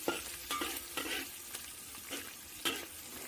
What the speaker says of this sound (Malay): Masukkan bahan-bahan, bawang merah, bawang putih, lada, tumis sampai semuanya garing.